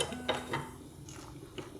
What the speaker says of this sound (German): Das Wasser kocht jetzt und da werden die Spaghetti reingegeben.